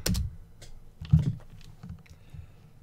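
A web address is typed on a computer keyboard as a quick, close burst of key clicks and taps, some louder strikes standing out, with no voice.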